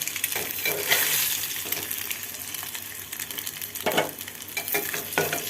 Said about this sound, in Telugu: గుడ్లు వేగిపోయి పక్కన తీసుకుందాం.